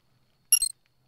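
A short electronic keypad beep from a button press in the video game Confabulation Homestead, a single bright tone that breaks into two or three quick chirps, heard alone against near silence.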